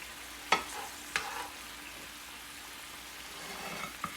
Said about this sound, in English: onions are getting caramelized nicely